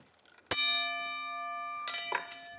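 A bell rung on a TV talk show gives one loud, clear strike that rings out with a long sustained tone, then a second strike near the end as the first fades, with a brief voice in the quiet between.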